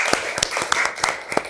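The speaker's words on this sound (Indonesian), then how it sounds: "Tepuk tangan dulu untuk kita semua." Scattered, sparse clapping from a small group in a lecture setting, about half a dozen distinct claps spread unevenly over a moment with light background noise.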